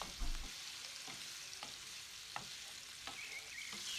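Meatballs fry in butter in a pan with a soft, steady sizzle. Occasional light clicks and scrapes of a utensil turning them break through the quiet crackle.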